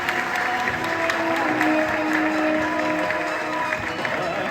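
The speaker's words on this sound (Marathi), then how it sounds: "मला वाटतं जोरदार टाळ्या व्हायला पाहिजे" Sustained applause from an audience at a student panel interview, a dense steady clatter of many hands filling the whole stretch at even loudness, with a faint murmur of crowd voices beneath.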